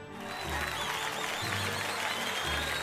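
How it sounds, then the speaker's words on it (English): Thunderous applause from a crowd of guests in the video game Umineko swells in within half a second, then holds as loud, dense clapping over a low, throbbing backdrop. "When Genji began to applaud, it quickly spread through the guests and became thunderous applause."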